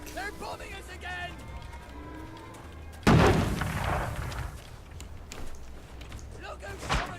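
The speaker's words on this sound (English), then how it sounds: "They're bombing us again!" Bombing explosions in the video game We Happy Few: a heavy, sudden boom erupts midway and rumbles on, with another sharp blast near the end, while shouting voices carry on throughout.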